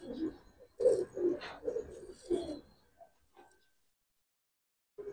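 Giribaz pigeons of the coloring and palla line coo in a short run of soft, low, throaty calls close by, then fall quiet.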